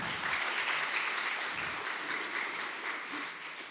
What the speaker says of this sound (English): Everyone, give a big welcome and applause for Stephanie.